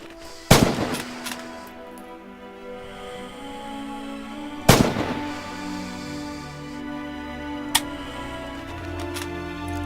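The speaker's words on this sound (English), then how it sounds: "From the crouch, fire free." Two loud, sharp rifle shots ring out in the Rising Storm war game, fired from a crouch roughly four seconds apart, each with a rolling echo, then a fainter third crack follows over low ambient battlefield noise.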